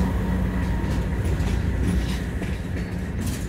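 NS 309 freight train, led by BNSF, KCS and CP locomotives, rumbles past nearby with a steady low roar and faint rhythmic wheel clatter.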